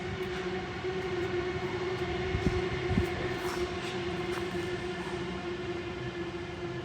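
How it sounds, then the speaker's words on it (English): A train runs along a Sydney rail line out of Waverton, giving a steady, loud rumble with a sustained tonal hum and a couple of clanks as the cars roll past, with no voices. "And here comes a train"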